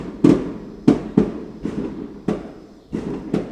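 Fireworks pop outdoors on the Fourth of July in an irregular string of about eight sharp bangs over a few seconds, some loud and near, others softer, with no talk.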